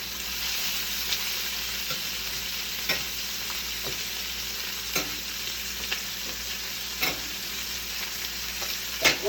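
Chicken sears in a hot pan on high heat, a steady broadband sizzle running throughout, with a few sharp pops and spatters as the meat fries.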